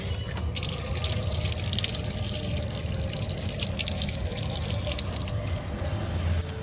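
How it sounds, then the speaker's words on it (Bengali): Water poured out for watering makes a continuous close splashing and trickling rush with light dripping, steady throughout and free of speech. "জল দিয়ে দিলাম।"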